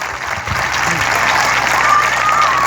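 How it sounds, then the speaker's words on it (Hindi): A crowd at a martyrs' honour ceremony and poetry event in Seoni Malwa claps loudly and continuously in a dense, sustained burst of applause, with a faint tone sounding under it. "मेरी तालियां, आपकी तालियां मेरी बात को मजबूती से वहां तक पहुंचाएं।"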